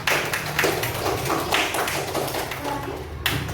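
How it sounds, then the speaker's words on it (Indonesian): A classroom of elementary pupils at SDN Tegalkalong bursts into steady, dense applause, many hands clapping together close by for a few seconds with a brief swell near the end. "Tepuk tangan dulu buat kita semua."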